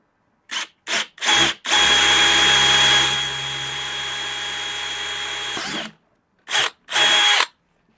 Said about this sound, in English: So let's go ahead and do the other drill hole.